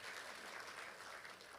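A church congregation applauds, a steady dense patter of clapping hands heard at moderate distance for the whole short stretch.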